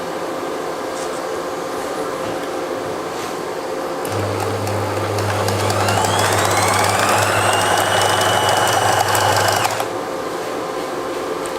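Sewing machine stitching a double seam on shirt fabric, a loud steady whirring run of about six seconds that starts and stops abruptly over a room background hum.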